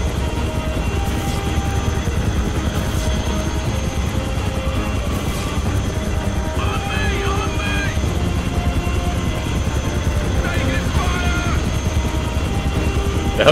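A helicopter in the video game Conflict Desert Storm 2: Back To Baghdad hovers with a steady, continuous rotor thrum and engine drone beneath game sounds, while players talk over it with occasional bursts of voice.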